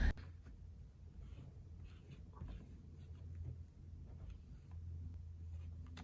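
A silicone spatula drags paint across cardstock in soft, steady scraping strokes, quiet and close with small rises and dips.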